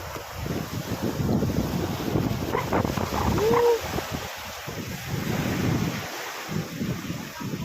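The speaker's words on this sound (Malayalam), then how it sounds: "തിര സ്ട്രോങ് ഇല്ല അല്ലേ ചെറിയ തിരമാലയാണ് ചെറിയ തിരമാല" Small, gentle ocean waves wash onto a beach in a steady broadband rush mixed with wind buffeting the microphone; a brief tonal squeak rises midway and no speech is heard.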